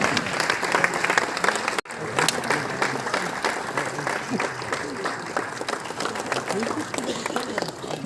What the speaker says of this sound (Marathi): जोरदार टाळ्या वाजत राहू द्या।